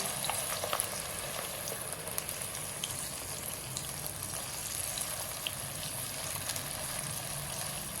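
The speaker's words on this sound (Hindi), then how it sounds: "घी में अब ग्राइंड किया हुआ प्याज शामिल करेंगे" Ground onion paste sizzles and fries steadily in hot ghee, a continuous crackling hiss with occasional pops, no voices.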